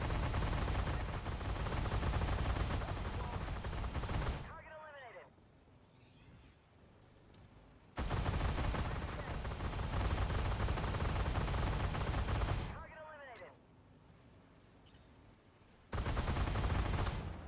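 A Flakpanzer Gepard anti-aircraft gun firing in a tank video game, heard as three long, loud sustained bursts of rapid fire separated by quieter gaps with faint whines and mechanical sounds.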